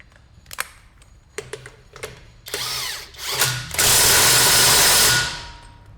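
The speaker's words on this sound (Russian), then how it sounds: "Сейчас гайку затянем." A nut is tightened on the rear wheel drum of a Lada Vesta: a few sharp metallic clicks and ratchet taps, then a loud, sustained whir of a power tool driving the nut, close by with no talk.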